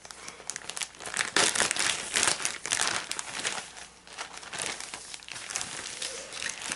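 A 12 by 12 plastic resealable bag of card kit supplies crinkles and rustles continuously as it is handled up close, loud and uneven with no talking over it.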